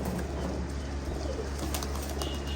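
Pigeons coo softly in a loft while hens are taken out to be vaccinated, with low repeated calls and a few chirps over a constant background hum.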